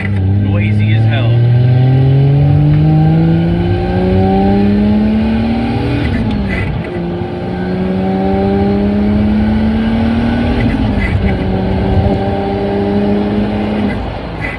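A Toyota Soarer with a swapped-in CD-0009 manual transmission drives through the gears. Its engine note rises steadily as it pulls through each gear, then drops at the shifts, with a persistent whine underneath, heard from inside the car.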